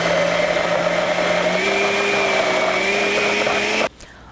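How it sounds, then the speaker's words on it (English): A blender mixing pesto ingredients runs at a steady high whine with a buzzing motor hum and cuts off abruptly near the end, leaving near silence. "we're ready to combine all of our ingredients in our blender"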